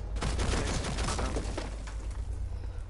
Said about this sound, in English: Is that a shotgun that Cade has?